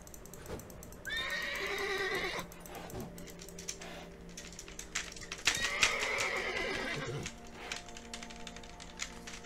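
Two horse neighs in The Witcher 3, a long whinny early and another a few seconds later, loud over game ambience with hoof clops and clicking keys.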